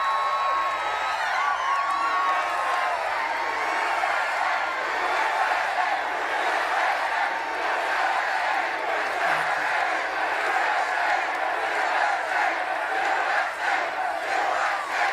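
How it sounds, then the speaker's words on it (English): Large crowd at an outdoor Donald Trump rally in Carson City, Nevada, roaring and cheering in a sustained loud wall of voices with scattered whoops, continuous and dense throughout. "What a crowd, what a crowd."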